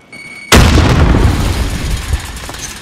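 A frag grenade explodes in Call of Duty Warzone Rebirth, a sudden loud close boom after half a second of quiet, with a long rumbling tail and debris rattling as it fades.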